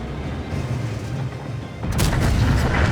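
A heavy artillery shot booms in a World of Tanks-style battle on a map with a Leopard 1 and STB-1, a single loud blast rising over a low rumbling game background.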